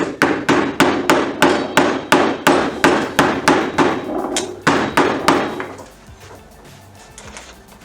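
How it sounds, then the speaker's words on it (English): A steady series of sharp hammer taps on a wooden block, driving a soil sample into place for a consolidation test, evenly spaced and close, about a dozen strikes before tapering into quieter scraping. "we're most likely going to use a hammer in a block of wood to make sure that stabs into place"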